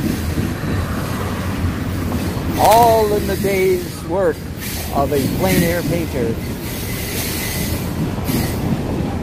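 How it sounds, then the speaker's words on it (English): A long freight train rumbles steadily past with faint wheel squeals and clatter, while a person talks over the noise. "this is the first long freight train. It's still kind of noisy"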